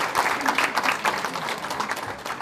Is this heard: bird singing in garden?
no